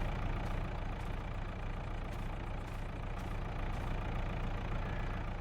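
A tractor's diesel engine idles steadily in Farming Simulator 22, a constant low rumble with a faint recurring tick, heard alone without talk throughout.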